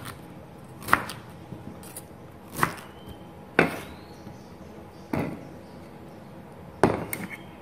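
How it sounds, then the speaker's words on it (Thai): Five sharp knife chops on a board as pineapple is cut into small pieces, spaced about a second or more apart, close and crisp with quiet pauses between. "แล้วสับปะรดเราก็หั่นเป็นชิ้นเล็กๆเหมือนกันนะคะ"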